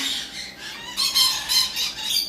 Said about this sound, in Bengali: এই যে এখানে কিছু লাভ বার্ড রয়েছে ভাই